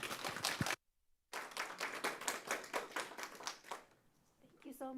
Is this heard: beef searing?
no